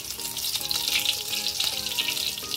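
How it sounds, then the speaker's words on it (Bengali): Chopped onion frying in mustard oil in a wok, a bright, busy sizzle with light crackles and a few stirring knocks, steady and close with no voices. "এখানে পেঁয়াজ কুচি করে নিয়েছি, পেঁয়াজটা দিয়ে দিলাম।"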